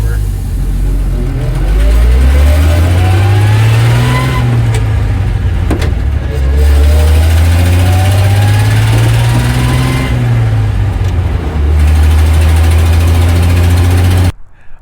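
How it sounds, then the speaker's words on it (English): A 1966 Ford F350 field-find truck drives on the road at around 50 mph, its engine droning loudly and steadily with pitch rising and falling through gear changes, plus constant road and wind noise. "We got it out on the road a little bit, got up to about 50 miles an hour."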